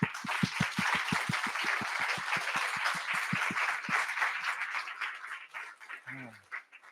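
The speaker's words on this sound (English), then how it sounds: "Please give Peter a huge round of applause." Audience applause for Peter at the close of the last talk of an evening show-and-tell event, a broad wash of clapping with a steady low thumping underneath that fades out toward the end.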